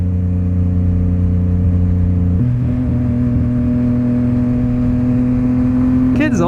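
A steady motorcycle engine drones while riding, its pitch dropping after a gear change partway through, then holding an even hum.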